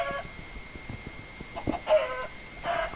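Minecraft rooster clucking in short, close bursts, a few abrupt squawky calls spaced over a quiet background of clicks and game noise.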